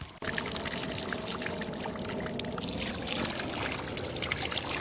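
Water runs steadily from a tap over wild duck meat to rinse out the blood, a continuous close splashing stream with no talk.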